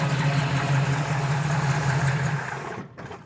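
A 1969 Chevy Camaro engine idles close by with a steady low rumble. It fades toward the end as the sound drops away.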